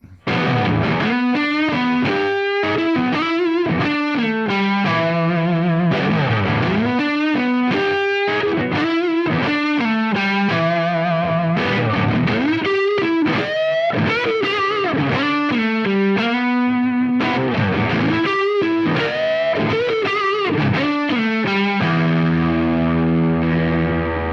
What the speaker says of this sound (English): It's a high gain Mesa Boogie Mark V. Mesa Recto Traditional.